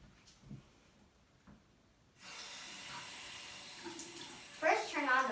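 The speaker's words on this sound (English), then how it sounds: "First, turn on the water." Water from a sink tap for hand washing starts abruptly about two seconds in and then runs as a steady hiss, with a person speaking over the flow near the end.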